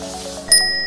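A bright bell ding sound effect for a notification rings once with a sharp strike, leaving a clear metallic ring that sustains briefly, close and alone.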